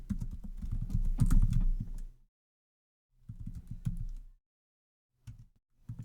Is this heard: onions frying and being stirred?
no